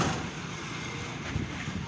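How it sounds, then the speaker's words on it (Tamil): Strong wind gusting around an outdoor cooking stove, a rough continuous rushing buffeting the microphone, fairly faint and lasting only a moment. "காற்று வந்து ரொம்ப அதிகமாக அடிக்குது"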